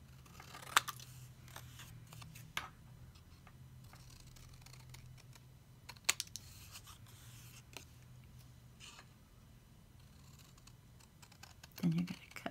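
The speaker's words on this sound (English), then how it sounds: "Then you're going to cut this out." Scissors cut out a paper template for a coffee cup decoration. A few quiet, scattered snips and crisp clicks sound close by in an otherwise hushed room.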